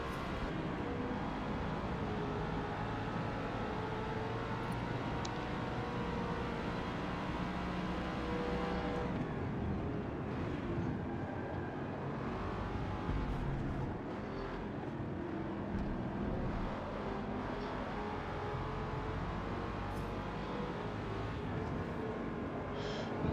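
Race car engines in a motorsport racing game, a steady low droning roar of several cars running close together, with a shifting passing swell about midway and no talk.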